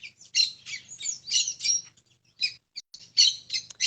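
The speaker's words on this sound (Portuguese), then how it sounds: "Eu tô ouvindo você concorrendo com os passarinhos" Outdoor songbirds chirp and twitter in lively, overlapping bursts, bright and fairly close, with a faint low hum underneath and no talk.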